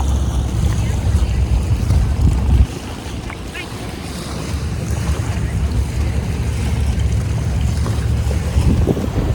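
Water from a passing boat's wake sloshes and laps steadily against a hull amid wind noise at Gold Coast, Australia, with a boat engine rumbling low beneath.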